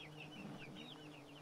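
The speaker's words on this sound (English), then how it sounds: "I let the other chickens free range." Backyard free-range chickens cluck and chatter faintly in the distance, soft repeated calls over a low steady background hum.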